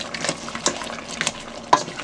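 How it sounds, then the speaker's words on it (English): Spoon stirring crab and crayfish in a cooking pot, with soft scraping and light clinks in irregular strokes, close and fairly quiet, no talk. "so I'm just going to stir that"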